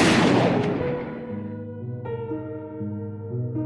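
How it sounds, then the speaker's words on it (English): The Hunter's gun in the Little Nightmares 3 game fires a single loud bang at the very start, its blast decaying over about a second into low sustained tones. "they hear a loud bang"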